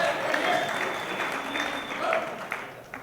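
Wedding reception guests applaud the bride in a steady, dense round of clapping from a crowd, filling the room evenly and fading slightly toward the end; no one talks over it.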